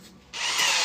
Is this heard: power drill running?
yes